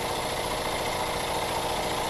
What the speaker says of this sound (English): I can't think of any better way of starting out July 4th than running this beautiful engine.